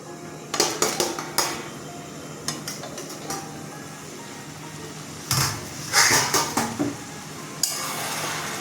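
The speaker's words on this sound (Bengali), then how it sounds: "এবার ঢেকে দিচ্ছি মিনিট পাঁচেক পরে আবার খুলব" A lid is set over a cooking pot of bottle gourd and fish head curry, with a cluster of sharp metallic clanks and rattles, a pause, then another louder burst of clattering close by.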